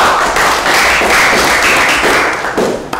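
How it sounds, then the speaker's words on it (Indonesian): Students in a construction technology classroom clap together for a group that has just presented, a dense, steady burst of hand claps lasting a few seconds and tapering off at the end. "tepuk tangan dulu untuk kelompoknya"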